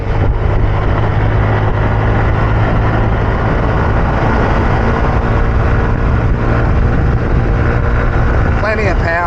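A 2023 Yamaha Aerox (Mio) scooter engine drones loud and steady as it accelerates to overtake on a road in the Philippines, with heavy wind rush layered over the motor throughout.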